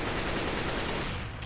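Rapid gunfire in the game CS:GO on the Mirage map, a dense unbroken burst of loud shots filling the whole short moment with no talking.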